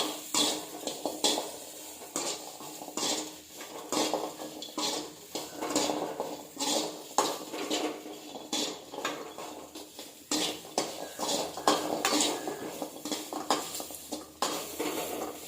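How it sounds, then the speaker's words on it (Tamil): A handful of grated coconut sautéed in a pan, with steady scraping and clinking of a spoon against metal and faint sizzling beneath, close and continuous with no talk. "கொஞ்சமாக தேங்காய், ஒரு கைப்பிடி தேங்காய். இதையும் லைட்டாக வதக்கிக்குவோம்."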